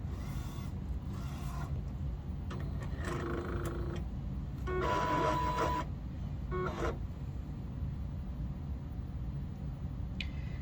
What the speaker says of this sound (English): the printer is going to go through a series of motions and charge those inks up